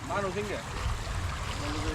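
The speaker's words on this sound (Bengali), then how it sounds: "এই যে আমরা ঝর্ণায় আছি" Water rushes steadily from a waterfall near Tanguar Haor while people talk over it.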